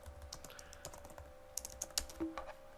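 Keystrokes on a computer keyboard while entering text in a C# programming tutorial, a quick irregular run of light clicks close to the mic over a steady electrical hum, with no one speaking.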